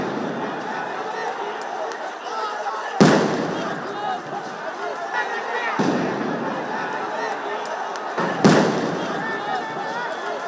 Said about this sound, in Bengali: একে একে বেশ কয়েকটি সাউন্ড গ্রেনেড নিক্ষেপ করে সমাবেশ ছত্রভঙ্গ করে দেয় পুলিশ